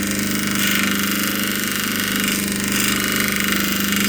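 An opal rubbing machine grinds a gem with a steady, loud, continuous motorized whine and buzzing rasp, unbroken and close throughout, with no talking.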